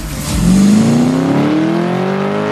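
A Volkswagen Bug fitted with a new turbocharged Typhoon engine revs hard and close, its pitch climbing steadily as the loud engine note rises and holds.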